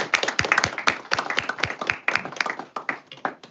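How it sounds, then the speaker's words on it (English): A small audience at a school meeting gives students a short round of applause, distinct individual claps rising and fading rather than a dense roar, heard close and clear. "So one more round of applause for my kiddos."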